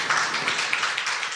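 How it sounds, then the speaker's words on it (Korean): Audience applause at a social innovation conference session on villages and residents, a steady patter of many hands clapping at moderate loudness throughout, with no voices over it. "신성로 마을공동체의 마실 박현선 전 대표님께 다시 한번 박수 보내주시면 고맙겠습니다"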